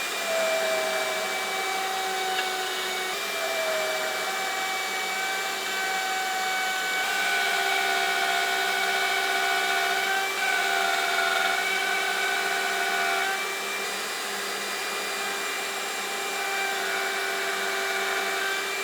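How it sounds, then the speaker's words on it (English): A power tool runs steadily for the whole stretch while cutting mortises into wooden legs for a modern hall table, a loud close whine with shifting tonal overtones and no pauses or talk. "So let's make the mortises in the legs next."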